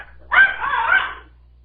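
A dog barks once in a drawn-out, harmonically rich burst lasting about a second, close and fairly loud, with no talk over it.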